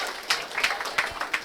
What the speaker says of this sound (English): A single clap, all of us together.